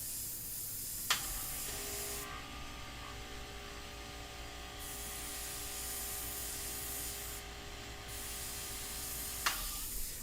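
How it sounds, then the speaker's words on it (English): An airbrush sprays paint in a steady, continuous hiss that runs almost the full length, starting and stopping sharply with a faint background hum beneath it. "you can see just how this airbrush is really just doing everything I want it to do"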